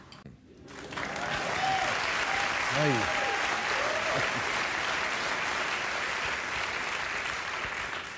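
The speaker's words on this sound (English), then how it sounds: "his audience is going to applaud for his trans joke" A studio audience at a political comedy talk show bursts into loud, sustained applause after a short silence, with a single voice shouting over the clapping.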